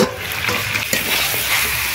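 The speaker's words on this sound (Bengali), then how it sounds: "মাংস কষানো হয়ে গেছে" Country chicken being sautéed and stirred in a pan, a steady close sizzle and crackle with scraping stirs of the spatula, loud and continuous with no talking.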